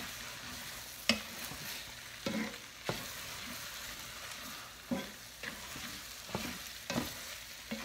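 Tomato paste being stirred into frying meat and vegetables for shepherd's pie, with a spoon scraping the pan in repeated strokes over a steady low sizzle, close and moderately quiet.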